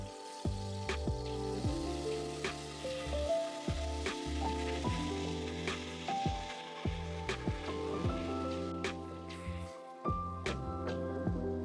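Green seasoning sizzles in hot coconut oil in a pot, a soft crackling fry with scattered pops and spits, quiet and close, alongside faint kitchen sounds.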